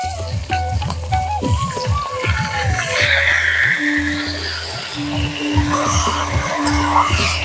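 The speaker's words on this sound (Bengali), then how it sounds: "এই ডিম ভাজা তেলেই আলু আর ফুলকপি গুলো ভেজে নেব।" Potatoes and cauliflower frying in hot oil left over from frying eggs, with a close, steady sizzle and intermittent stirring scrapes and clatters of a utensil.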